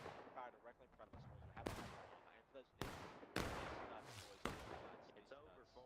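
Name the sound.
musket gunfire in War of Rights video game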